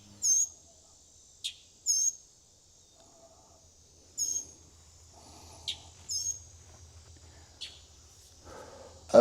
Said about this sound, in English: that's either gonna be a robin or a mockingbird